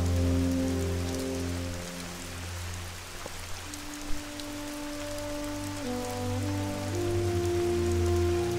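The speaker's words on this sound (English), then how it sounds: "You hear the rain" Steady rain falling in the hunting game theHunter: Call of the Wild, a continuous close hiss of drops over low sustained droning tones, with no one talking.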